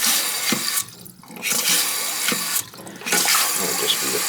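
Toilet tank refilling through a new flapper setup, a steady broadband rush of running water that holds close and loud, dips briefly twice, and carries faint voices beneath it.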